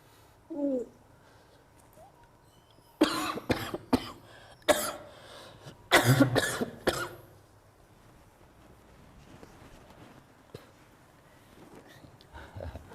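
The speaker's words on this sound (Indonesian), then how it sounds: "Batuk lagi ya." A few harsh coughs in short bursts, one near the start and a cluster in the middle, then quiet room noise.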